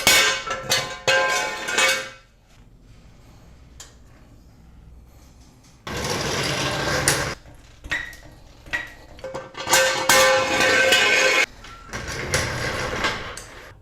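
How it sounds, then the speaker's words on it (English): Toyota 4Runner lowered off jack stands, loud close metallic clanks and scraping bursts separated by quieter pauses, with clattering that returns in several uneven clusters. "we're gonna go ahead and drop the vehicle now and take it off the jack stands"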